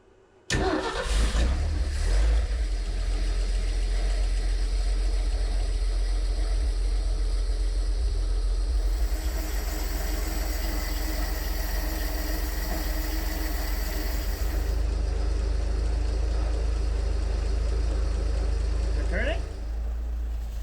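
A car engine, running on six cylinders, cranks, catches and starts, then idles with a loud, steady rumble that continues throughout.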